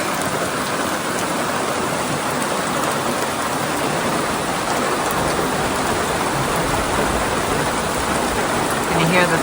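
Heavy rain pours down steadily at a tent campsite in a dense, continuous hiss, loud and close, with no pauses.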